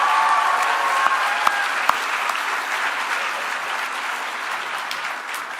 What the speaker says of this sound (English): how about a round of applause for Allison